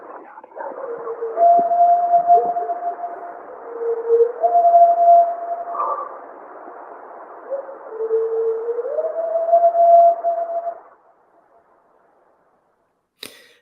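A field recording from Pine Island in Michigan's Upper Peninsula plays an unidentified high, arching whoop or howl. It is a long, sustained wavering call that steps between pitches over about ten seconds, then stops into near silence before a brief click.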